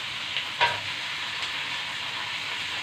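Tomatoes sizzling in a frying pan with sardines, a steady close hiss of frying with a brief sharper spatter as the tomatoes land.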